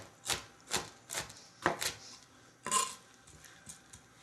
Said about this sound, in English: Give those a little rough chop as well.